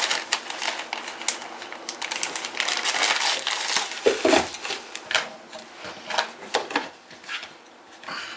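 Grinding up an ingredient for orange chicken: a dense, rapid crunchy rattling that continues steadily for several seconds, close and fairly loud, with no talking.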